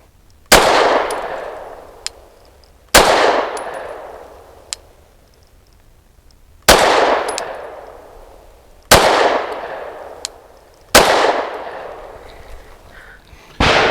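Five sharp gunshots from a Kimber R7 Mako Carbon Compact pistol fired at an outdoor range, each a loud crack with a ringing decay, spaced a couple of seconds apart, with faint clinks between shots.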